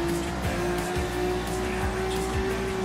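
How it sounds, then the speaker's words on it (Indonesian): A car engine in the Roblox video game drones steadily with a constant tonal hum and rhythmic pulsing revving, loud and continuous throughout without a break. "Suara mesinnya jelek banget ya"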